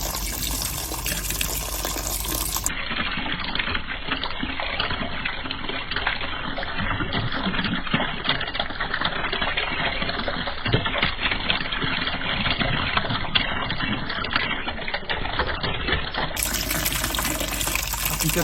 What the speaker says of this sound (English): Once the headphones are brought off the plane, they are run through a dishwasher-like system. Soap and hot water dissolve the foam padding off the plastic base